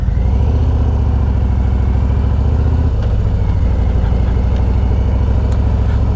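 A 2023 Harley-Davidson Road Glide Special with a Screaming Eagle Stage 2 tune idles close and loud, a deep steady lumpy rumble with a slight choppy lope, running alone without talk.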